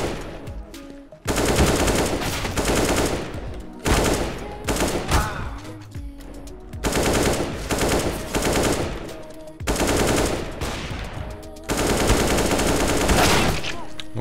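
Rapid automatic rifle fire from a CS:GO match comes in repeated bursts, loud and close, with short pauses between the volleys.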